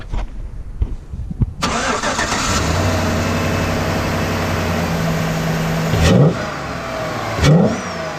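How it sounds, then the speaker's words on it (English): Chevrolet Silverado truck (2008–2013) fitted with an eBay cold air intake, its engine cranking and catching, settling into a loud idle, then revving sharply twice, close by and with no talk. "I'm going to go ahead and start the truck for you guys and rev it up"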